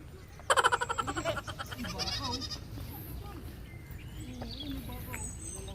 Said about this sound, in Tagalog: Yan, may kambing.